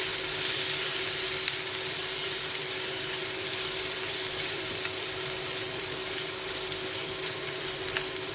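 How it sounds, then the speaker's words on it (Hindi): Peanut poha frying in a pan on an induction cooktop as turmeric is stirred in, giving a steady, close, even sizzle with faint scraping of the spoon throughout and no talking. "अब इसमें मैं डालेगी हल्दी, इसे भी मैं अच्छे से मिक्स करके लेगी।"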